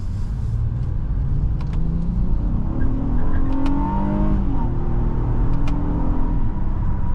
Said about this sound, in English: I can never get tired of that engine noise